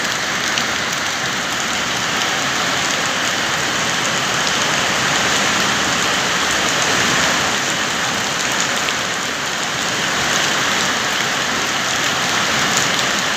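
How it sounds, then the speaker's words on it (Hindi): Heavy rain pours down in Coimbatore, a constant dense hiss of drops on surfaces, steady and close with no voices. "तो आज देखिए बारिश हो रहा है और अच्छे ही बारिश हुआ है।"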